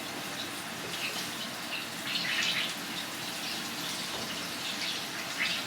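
Water pours steadily into a small container for a cornstarch slurry in a home kitchen, a soft continuous splashing stream with slight surges.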